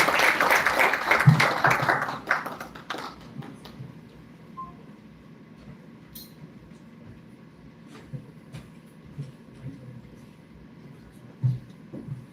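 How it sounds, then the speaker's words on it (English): Applause at a fintech conference fireside chat, a short burst of clapping that fades within about three seconds, followed by quiet room tone with faint scattered knocks and thumps. "A big round of applause for our speakers"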